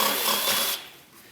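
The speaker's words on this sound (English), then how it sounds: "I like to drill it from the other side too, so I don't get it all ripped out" A power drill bores through metal conduit with a loud, steady whine for about three-quarters of a second, then cuts off, leaving a faint fading rumble.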